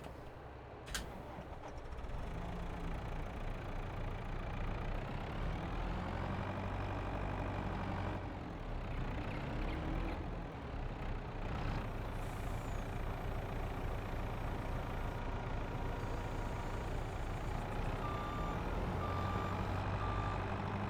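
A truck in Farming Simulator 22 idles with a low engine drone while its reversing alarm sounds a steady series of repeated beeps, loud and close throughout with no talk.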